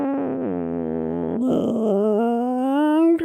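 A human voice imitates the creaking, straining groan of a submarine hull under compression, a drawn-out moaning tone that bends downward, then rises into a strained, shifting creak, close and alone.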